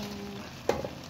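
Chop suey vegetables sizzle steadily in a hot pan, a close, continuous frying hiss broken by a sharp clatter of stirring near the middle and a few quieter utensil knocks after.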